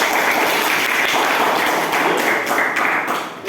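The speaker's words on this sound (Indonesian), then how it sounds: "Tepuk tangan untuk kelompok 1." Classmates applaud a student group after its presentation in a lesson, a close, loud burst of many hands clapping with some desk taps and thumps mixed in.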